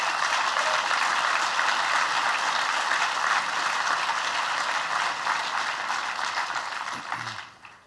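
A big round of applause for Jano Lieber at a public address by Governor Andrew Cuomo, dense sustained clapping from a large crowd that stays strong and then fades away near the end.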